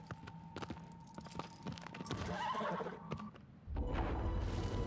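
A horse neighs in the video game Shadow of the Colossus, a whinny with hoof clip-clops and game ambience, rising into a louder burst of noise near the end.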